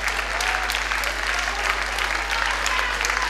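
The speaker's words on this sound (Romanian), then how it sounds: "Aplauze bine meritate" Warm, sustained applause from a concert audience for a female singer, dense clapping at an even level throughout with a steady low hum underneath.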